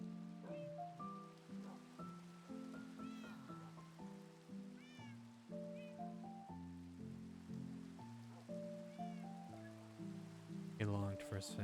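Rain falls steadily in the Minecraft video game as a soft, continuous hiss beneath a looping tonal melody, with occasional cat meows rising above it.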